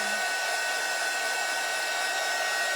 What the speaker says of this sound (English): I usually have my heat tool hanging up on the wall. I'm going to just go in here and dry this.